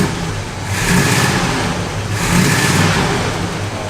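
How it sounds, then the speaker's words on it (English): An abandoned Chevrolet C10 pickup's engine runs loud and close, swelling through two distinct revs about a second and a half apart before settling back toward idle. "The quietest engine ever."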